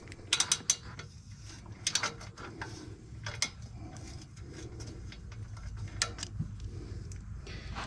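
A ratchet with a 13 mm socket clicks in several quick bursts as it works an exhaust manifold nut on a Dixie Chopper mower. The sound is close and sharp, with a low background hum between the bursts.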